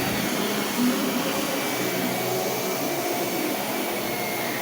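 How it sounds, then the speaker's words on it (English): A vacuum cleaner runs steadily and loudly nearby, a constant whooshing drone with no pauses and no voices. "I'm used to hearing her vacuum with us all the time."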